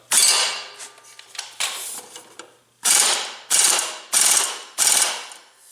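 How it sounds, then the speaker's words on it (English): An impact wrench tightens a bolt on an Ariens snowblower blade clutch in several loud, sharp rattling bursts, a few short ones followed by four strong hammering runs, close up with no talking. "We're just going to give it a little tickle with the bigger impact to make sure it's snug."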